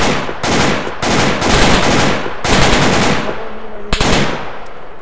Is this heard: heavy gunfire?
yes